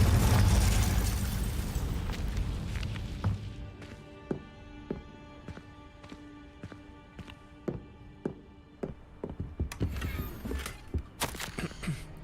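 A Confringo fire spell bursting in Hogwarts Legacy, starting with a loud roaring explosion that fades, then followed by scattered clacks and light footstep-like taps.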